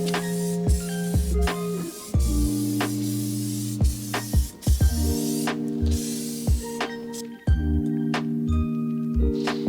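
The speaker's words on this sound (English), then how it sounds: "grab your favorite carpet cleaner or fabric cleaner, spray down the mats" Fabric cleaner sprayed onto the carpeted floor mats of a Mazda Miata during an interior detail, with short repeated spray bursts over steady tonal background music.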